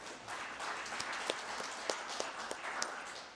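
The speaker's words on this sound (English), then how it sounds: "We didn't clap for her." Applause from an audience at a farm funding event inside a building: a steady, fairly faint wash of clapping with a few sharper hand claps standing out, and no talk over it.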